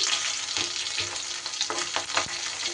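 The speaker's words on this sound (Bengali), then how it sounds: "আর একটু ভাজ ভেজে নেব মাছের মাথা" Hilsa fish head sizzles steadily in hot oil, a dense continuous crackle with a few soft clinks of a utensil stirring.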